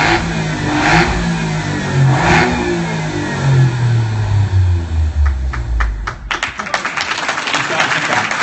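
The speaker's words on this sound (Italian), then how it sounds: "Ma il motore di un Alfa si deve anche sentire, riconoscere dalla sua voce, da questa voce." An Alfa Romeo Giulia engine revs up and sweeps through its range, its tone rising and falling, then sharp crackles and pops from the exhaust near the end.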